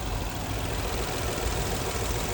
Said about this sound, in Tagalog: Palyado, malikot yung makina.